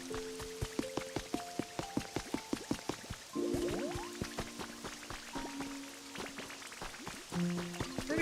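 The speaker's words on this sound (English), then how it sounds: "Pretty sure that all these Pokemon enjoy being in the rain, even though I can't make the rain stop now that I've started it." Rain falls in the video game Pokopia as steady patter and drips, heard alone beneath brief melodic tones from the game.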